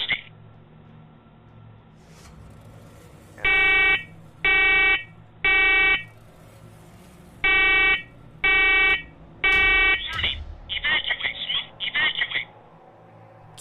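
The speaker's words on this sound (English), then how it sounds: "Carbon monoxide detector." A carbon monoxide detector in a basement sounds in two sets of three sharp, evenly spaced beeps, followed by a fast burst of rapid chirping tones.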